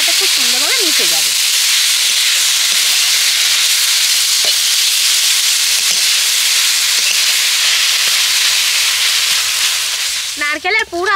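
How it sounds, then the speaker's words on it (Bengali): Coconut and jaggery filling being stirred in a pan, a steady sizzling hiss running throughout with soft scraping, and brief background voices at the start and end. "এইভাবে নাড়তে নাড়তে গুড়টাও গলে যাবে"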